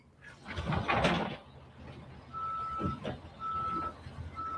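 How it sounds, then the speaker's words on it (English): Reversing beeps from a tow truck arriving to tow a car, a steady series of evenly spaced electronic tones repeating after a loud burst of mixed noise at the start, heard at moderate distance. "the tow guy's here. He's gonna tow my car."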